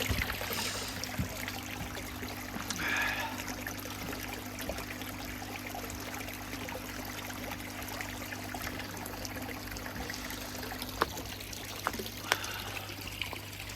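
Water trickles and splashes steadily, a continuous soft wash with a few sharper drips near the end, and no voices.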